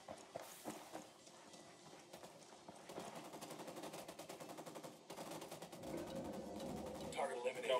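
Gunfire in Ghost Recon Wildlands: scattered shots give way to long rapid automatic bursts, dense and continuous through the middle and end, over background game sounds.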